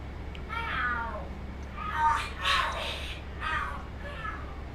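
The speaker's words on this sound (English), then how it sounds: "Are there cats fighting? What are they screaming for?" Cats fighting and screaming in the video game Lost Judgment, a series of drawn-out yowling, caterwauling cries rising and falling over a low background hum, with no talk over them.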